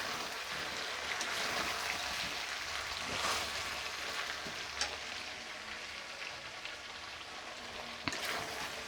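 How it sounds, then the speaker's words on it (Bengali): Potato curry (aloor dom) with whole cardamom pods is stirred in a pan, making a continuous close frying sizzle with occasional scraping strokes of the spatula. "দিয়ে এইভাবে নাড়ছি"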